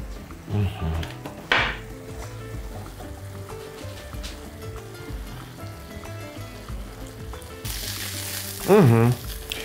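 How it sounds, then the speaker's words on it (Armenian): Meat fries in a pan beside roasting vegetables for a potato and meat jerepuk, giving a steady soft sizzle broken by occasional clanks of a pot and utensils, with a louder clatter near the end. "Միսը թող տապակվի, բանջարեղենը թող խորովի"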